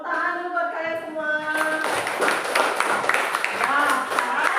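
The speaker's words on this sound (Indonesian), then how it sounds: "Tepuk tangan dulu buat kalian semua" Classroom students clapping hands together, a dense burst of claps starting about a second and a half in and continuing to the end, following a voice and mixed with talking.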